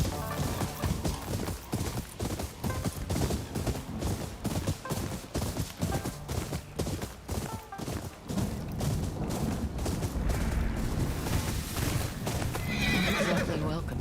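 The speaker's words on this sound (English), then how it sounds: "move out the way, wild horses." Wild horses in a video game neigh and gallop loudly and close by, with rapid clip-clop hoofbeats and repeated whinnies over dense game sound and occasional thuds, with talk present throughout.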